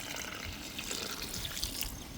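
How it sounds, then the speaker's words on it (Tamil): Water poured into a pan of simmering Andhra-style chilli crab masala, a steady broadband splash and trickle held at an even level throughout, fairly close and with no voices. "தண்ணி சேர்த்துக்கிறேண்ணா"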